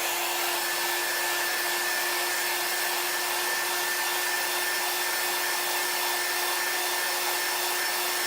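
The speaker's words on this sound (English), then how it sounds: "We're going to dry it a little bit." A hair dryer blowing on a chalk craft project makes a steady, even whir with a constant motor whine, close and continuous for the whole stretch, with no one speaking.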